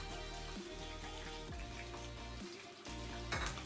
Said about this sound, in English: I'm using shallow frying method, which is so good because the sausages will not accumulate a lot of oil